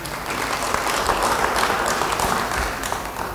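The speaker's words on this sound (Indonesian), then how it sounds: "Beri tepuk tangan bagi dia." Church congregation applause during a sermon, a broad wash of many hands clapping at a steady, moderate level, slightly distant with a reverberant room feel.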